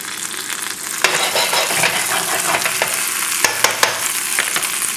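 Turkey cutlet frying in hot oil in a pan, a loud, close, continuous sizzle with scattered crackles and a few sharp clicks and pops, no voices.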